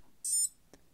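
A Garmin Edge 1030 Plus cycling GPS unit gives one short, high-pitched electronic beep, followed by a faint click against a quiet background.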